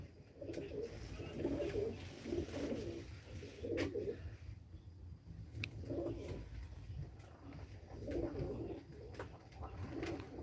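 Long-distance flying pigeons coo repeatedly in soft, rhythmic bursts against a steady low background hum, with occasional faint clicks.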